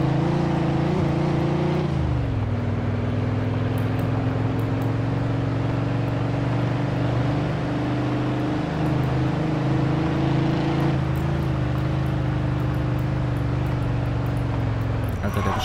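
A car accelerating in Mafia II, a steady engine drone that drops in pitch after a gear change, then holds and climbs again, continuous and close with no talk.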